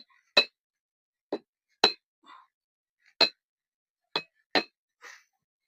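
A coconut shell is struck open with a series of sharp, hard clinks, about seven separate hits spaced irregularly and heard close and alone, after the water has been drained from the nut.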